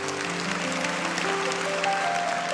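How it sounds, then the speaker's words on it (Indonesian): A church congregation gives applause to the Lord during a sermon, a soft steady patter of clapping heard under sustained musical tones from instruments playing behind it. "Kasih tepuk tangan untuk Tuhan."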